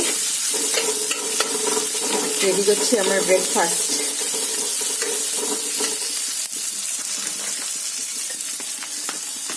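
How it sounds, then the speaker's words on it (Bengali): Onions with green chillies, cumin and mustard seeds sizzle in hot oil for semolina upma, a steady close frying hiss with stirring scrapes, while someone talks briefly over it. "পেঁয়াজটা ভাজা ভাজা হচ্ছে"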